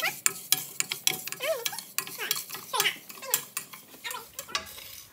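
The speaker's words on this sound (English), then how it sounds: "I'm dry roasting the urdal." Urad dal being dry roasted in a pan on a medium stove, with repeated scraping, stirring and clinking of a utensil against the pan, close and busy with brief rattling bursts and no talking.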